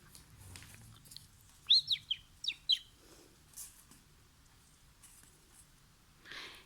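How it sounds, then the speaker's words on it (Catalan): A family of birds in a nest gives a short burst of several bright, high chirps in quick succession, fairly close and clear over a quiet background with faint rustling. "hi havia un niu on hi vivien una família d'ocells"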